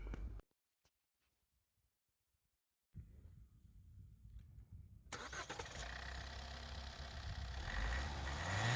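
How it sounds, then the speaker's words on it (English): After near silence, a Maruti Suzuki Ertiga 1.5 diesel car engine cranks and catches, then settles into a steady, low idle that grows slightly louder. "Let's start the engine."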